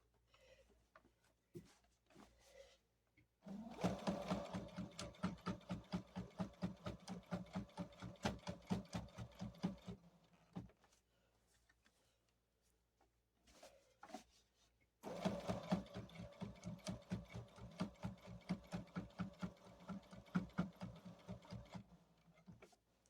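A sewing machine stitches in the ditch around a quilt square, running in two long stretches of fast, even needle clatter with brief starts and pauses between them.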